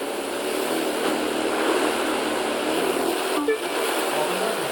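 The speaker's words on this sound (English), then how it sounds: "the hovercraft engine sounds a little different" Hovercraft engine in The Crew 2 racing game, a steady broadband droning roar held at constant loudness throughout, with a brief change in tone near the end and no talk.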